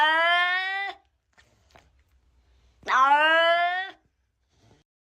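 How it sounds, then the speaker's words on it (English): A domestic tabby cat meows twice, each call long and drawn-out, close and loud, with a quiet pause between them and no talking. "This cat has a lot to say."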